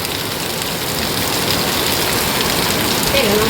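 Heavy typhoon rain pours down in a loud, continuous hiss of drops drumming on surfaces, with a faint engine rumble underneath throughout.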